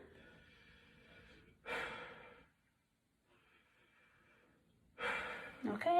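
A patient takes deep breaths while the lungs are listened to: a couple of soft, breathy inhales and exhales close by, separated by quiet pauses, with faint talk at the start.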